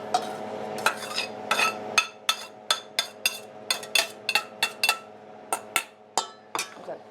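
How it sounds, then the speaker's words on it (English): Gnocchi stirred in brown butter in a pan, a series of sharp clinking scrapes of a utensil against the pan in an irregular rhythm, close and fairly quiet over a faint steady hum. "Brown butter going in my gnocchis."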